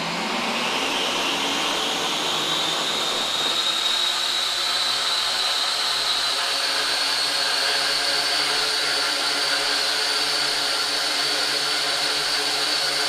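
Quadcopter rotors spin up inside an enclosed box, a whirring whine that rises in pitch over the first few seconds and then holds steady and loud, with no talking.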